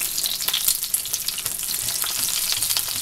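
Eggs fry in very hot lard, crackling and spitting in a dense, continuous sizzle with scattered sharper pops, close and fairly loud, with no voices.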